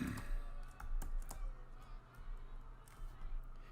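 Rapid clicking and clacking of a loud computer keyboard being typed on, with irregular bursts of keystrokes and a low background hum throughout.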